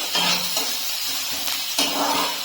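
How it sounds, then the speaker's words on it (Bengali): Chopped onion sizzling in hot ghee with mustard seeds, a steady close frying hiss with brief bursts of louder crackle as the pan is stirred. "দিয়ে দিলাম পেঁয়াজ দিচ্ছি এখন পেঁয়াজটাকে একটু ভেজে নেবো হালকা একটু ভেজে নিতে হবে"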